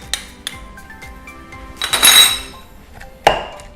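Pestle striking a mortar as green curry paste is worked together with shrimp paste, giving several sharp clacks and a scraping grind in a quiet kitchen.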